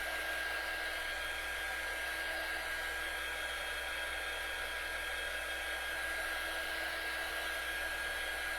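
A hair dryer blows steadily and loudly for the whole stretch, drying fresh paint on a DIY wooden easel sign, a constant airy whoosh with no talking.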